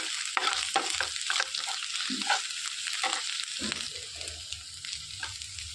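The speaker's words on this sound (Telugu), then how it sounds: "ఇందులోనికి అల్లం వెల్లుల్లి పేస్ట్ 1 స్పూన్ వేసుకోవాలి. పచ్చివాసన పోయే వరకు వేయించుకోవాలి." Ginger garlic paste fries in a pan with a steady, bright sizzle while a spoon stirs and scrapes intermittently, close and continuous with no talk.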